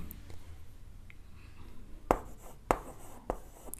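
Chalk or marker writing an example on a classroom board during a grammar lesson, heard as a few sharp taps and short scratchy strokes over a quiet room background.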